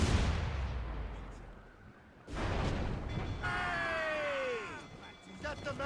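Ship cannons firing in a naval battle video game produce heavy, rumbling booms that roll through the scene, while shouting voices and a falling, whistling tone sound over the din.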